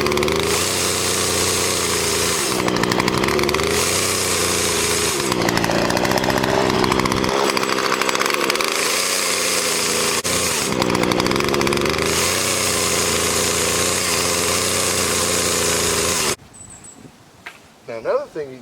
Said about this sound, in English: Low idle is what I do. That way I don't have this saw trying to kick back on me.